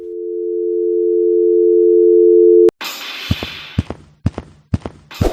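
A telephone in a Lego Ninjago video game gives a steady, loud, continuous tone that cuts off abruptly, followed by a burst of noise and several sharp clicks and thumps.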